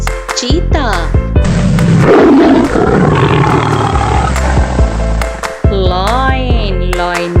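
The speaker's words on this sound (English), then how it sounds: "Tiger. Tiger means cheetah." A tiger gives a rough, loud roar over a few seconds, mixed with a music bed and talk before and after it.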